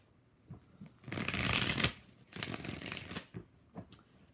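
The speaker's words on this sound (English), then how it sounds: "Two more shuffles." A deck of tarot cards being shuffled by hand in a few close, crisp riffling bursts with short pauses between them.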